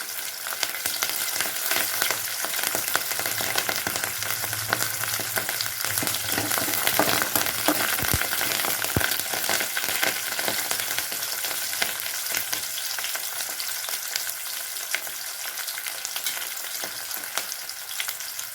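Curry leaves, with small shallots, crackle and fry steadily in hot oil for sambar, a dense continuous sizzle with a few sharp pops near the middle, close and fairly loud, with no talking.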